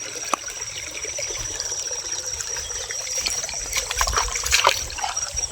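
Irrigation water runs from burst pipes into a crop field, a thin steady trickle and gurgle with a faint hiss, moderately close and unbroken, with a soft knock near the start.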